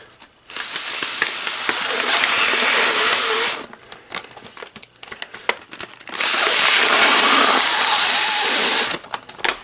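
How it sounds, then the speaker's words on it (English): Two long, steady breathy blows of air into a large 13.8-inch origami paper waterbomb, each about three seconds, close and fairly loud with a short quiet gap of faint paper handling between. "blow into the side with the hole"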